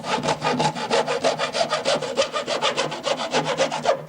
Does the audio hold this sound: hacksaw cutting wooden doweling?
yes